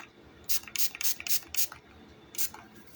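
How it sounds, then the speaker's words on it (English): Alcohol is sprayed onto a sand-and-resin footprint art piece in short, sharp hissing bursts, five in quick succession and then one more after a pause, close and distinct over quiet room tone. "I'm gonna spray it really, really well with alcohol"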